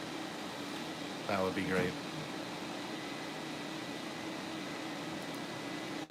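A sticker printer runs with a steady, even, broadband hum and whir through the whole stretch, and a voice speaks briefly over it.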